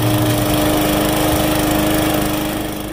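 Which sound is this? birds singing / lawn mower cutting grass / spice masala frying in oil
lawn mower cutting grass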